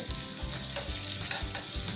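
Garlic sizzles and crackles in hot oil for shatavari soup, a close, busy frying sound with light stirring scrapes.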